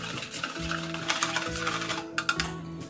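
Oil is stirred into an eggless cake batter of sugar, curd and vanilla essence, giving soft repeated scraping and clinking strokes in an even rhythm, close and fairly quiet, with no talk.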